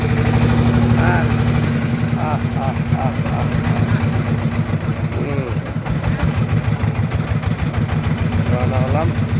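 A boat engine thrums with a steady low drone on a river trip to Bholaganj in Sylhet, close and loud, while people talk over it throughout.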